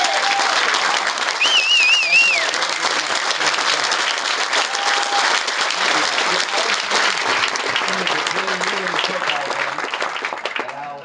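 A crowd applauds Senator Lindsey Graham at the Nebraska Steak Fry, with sustained loud clapping throughout and a few whistles and cheers mixed in.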